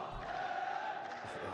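An esports arena crowd at an Overwatch event, a brief steady buzzing murmur of many voices at a moderate distance.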